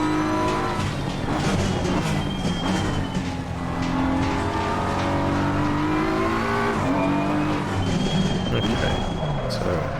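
A BMW race car engine in the game Assetto Corsa Competizione revs and shifts through gears, pitch rising and falling repeatedly, with tire squeal and a voice talking underneath.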